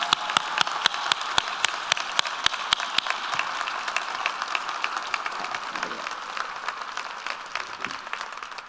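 Guests at a service recognition luncheon applaud award recipients, starting with a few distinct claps that quickly swell into continuous, full applause that carries on steadily to the end.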